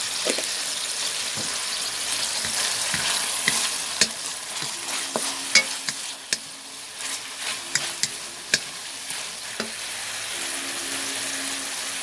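Home-grown bean sprouts are stir-fried with seasoning in a pan, a continuous sizzle broken by repeated scraping and clacking of a spatula at an irregular rhythm, close and fairly loud, with no voices.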